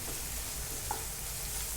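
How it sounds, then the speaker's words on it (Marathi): Ginger garlic paste fries in a pan for pav bhaji, a close, steady dense sizzle with one brief soft tap partway through. "आता यामध्ये एक चमचा आले लसूण पेस्ट घालून छान भाजून घेणार आहे"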